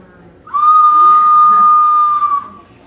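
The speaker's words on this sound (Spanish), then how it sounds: "ahora he hecho una calavera con silbato" A handmade clay whistle shaped like a skull is blown once, giving a single pure, steady high tone held for about two seconds, loud and close.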